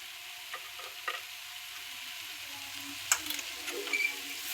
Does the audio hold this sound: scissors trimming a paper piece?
no